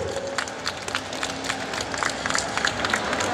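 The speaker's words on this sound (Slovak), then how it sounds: "Obrovský potlesk!" An expo audience claps in a patter of many hands that grows denser, with scattered sharper claps standing out.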